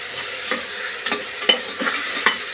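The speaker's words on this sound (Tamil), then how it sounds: "நல்லா இது வதக்கணும்" Ingredients sautéing in a pan for dal rice, a steady close sizzle broken by several sharp scraping stirs of a spatula at irregular intervals, with no talk.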